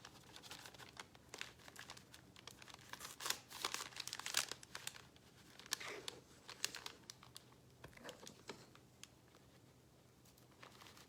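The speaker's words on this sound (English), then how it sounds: "I'm going to take the majority of this and put it into my parchment bag." Parchment piping bag crinkling and rustling as meringue is spooned into it, a run of close, irregular crackles and soft crunches with brief louder bursts, no talking.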